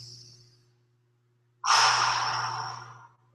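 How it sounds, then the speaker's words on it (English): A single deep breath during a kung fu leg-stretching session, drawn in as a long airy rush after a quiet pause, close and fairly loud, under a steady low hum. "Take another deep breath."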